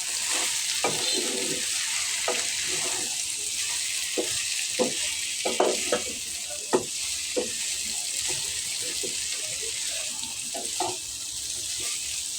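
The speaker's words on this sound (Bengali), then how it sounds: "পাঁচফোড়নের ভাজিটা আমি নেড়ে চেড়ে দিচ্ছি" Potato and pumpkin bhaji seasoned with panch phoron is stirred in a frying pan: a constant close sizzle with irregular scraping and clattering strokes of the spatula throughout.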